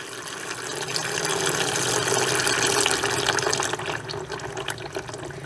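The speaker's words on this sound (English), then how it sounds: "I have a leak in my transmission somewhere, because that was like 2 gallons of water" Water gushes steadily from a leaking Polaris Ranger transmission, a loud, close, continuous splashing pour that eases slightly toward the end.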